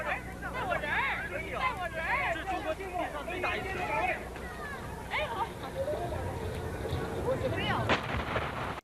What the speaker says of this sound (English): that fucking explosion is huge